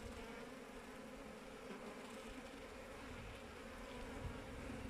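Honey bees buzz steadily at an open hive split from a neighbour's colony, a dense continuous drone close by with no voices over it.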